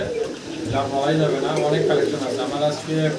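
Several pigeons at a Bangladeshi pigeon loft coo in overlapping, throaty phrases, steady and fairly close, with a low continuous murmur of birds throughout.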